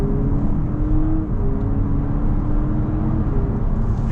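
A 2026 Honda Civic Hybrid hatchback accelerates in sport mode, its engine note a steady, loud whirring drone that rises slightly in pitch and continues without any talk.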